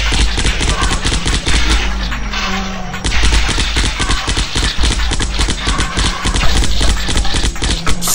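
Rapid automatic assault rifle fire in the flash game Zombocalypse, a loud dense rattle of shots with one short break partway through, then continuous firing again.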